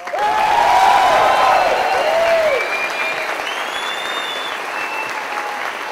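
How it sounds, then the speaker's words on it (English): Concert crowd at a 2006 show for troops breaks into loud, dense applause that builds quickly, then thins to a steadier, softer clatter, with a sustained voice or tone running over it. "Give him a hand and applause."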